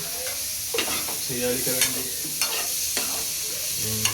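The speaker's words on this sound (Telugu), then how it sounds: "పిజ్జాలకు అయితే పన్నీర్ని ఫ్రై చేస్తున్నారు కొద్దిగా." Paneer pieces fry and sizzle in a pan for pizza at a street food stall, with a steady hiss broken by intermittent scraping and stirring clatters of a utensil against the pan, close by.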